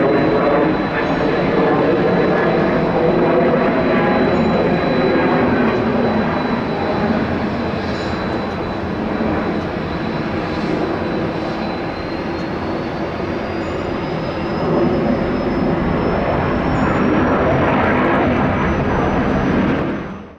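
An airliner takes off from runway 26 left at Atlanta's international airport, its jet engines giving a loud, sustained roar with a slowly rising whine that holds for about twenty seconds before cutting off.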